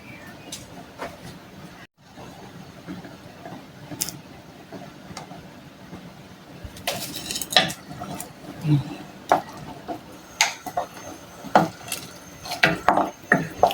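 A spoon stirring boiled mung beans in a pot, quiet simmering at first, then scraping knocks and clatters that come in bursts and grow busier toward the end, with no voices over it.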